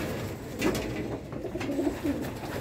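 Pigeons coo softly in short repeated calls at moderate distance, heard alone against a quiet background without speech.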